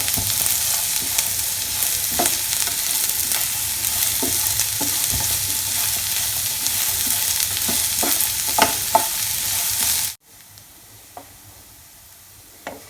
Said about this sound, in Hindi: अब इसमें मैं अनियन डाल देती हूँ और अनियन को भी हमने ऐसे ही इसके साथ फ्राई करना है।